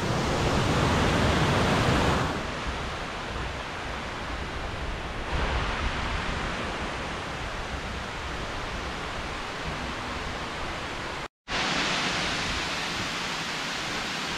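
A waterfall near Luang Prabang, Laos, gives a steady, loud broadband rush of falling water, continuous throughout, with a brief cut near the end.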